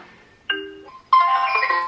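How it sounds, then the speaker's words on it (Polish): A Garett Kids 4G children's smartwatch rings for an incoming video call, playing a clear electronic tone and then a brighter melodic chime, loud and close, with no one talking. "Zobaczcie, dzwoni Juanito"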